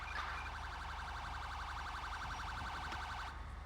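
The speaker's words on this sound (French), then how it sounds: "j'entends un véhicule de police" Police vehicle siren wailing steadily at close range during a British patrol, a rapid warbling two-tone cycle sounding continuously and loudly for several seconds before cutting off abruptly near the end.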